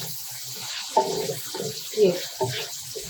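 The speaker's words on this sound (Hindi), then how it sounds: "देखिए हल्का सा बस पानी डालना है इसके अंदर" Water trickles and splashes into a pan of spaghetti masala in a few short bursts, close by, with someone speaking over it.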